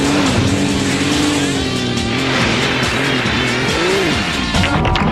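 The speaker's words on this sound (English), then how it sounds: "Here to give you the skids right now." Tires squeal and skid in the Sega GT racing video game, a loud continuous screech with wavering pitch under a car engine roar, sustained for several seconds with no talking.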